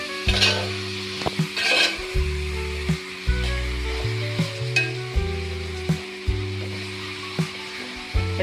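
Turmeric is stirred into ivy gourd frying in a pan, with a constant sizzle broken by repeated scraping strokes of the spoon, while soft tonal music plays underneath.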